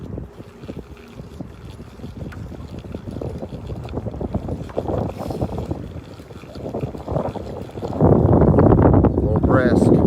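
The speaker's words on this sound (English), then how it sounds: "Keep getting turned by the little bit of rapids I'm sitting in." Kayak rocking in choppy water over small rapids in Maine, with steady wind buffeting the microphone and water sloshing against the hull, growing louder and rougher near the end; a person talks over it.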